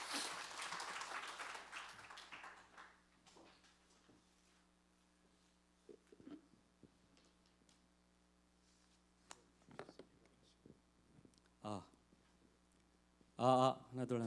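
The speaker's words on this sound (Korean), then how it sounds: "우리 박수로 환영하겠습니다" Applause from a church congregation welcomes a pastor to the front during a Sunday service, a burst of clapping that fades out over a few seconds before quiet talk and scattered small noises follow.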